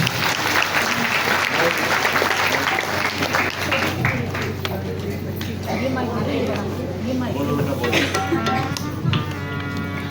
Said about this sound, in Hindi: पहले ताली बजा दीजिए